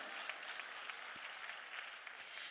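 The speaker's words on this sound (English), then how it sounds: "I think we deserve a big round of applause for that one." Faint, distant applause from an audience at a diaspora talk, a soft even patter of many hands with no distinct claps standing out, sustained across the whole moment.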